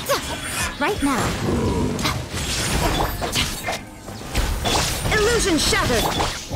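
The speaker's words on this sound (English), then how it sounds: "Illusion shattered!" Illusion-shattering effect in Genshin Impact's Spiral Abyss combat, a loud crashing shatter among whooshing attacks and hits, overlapped by in-game character voice lines.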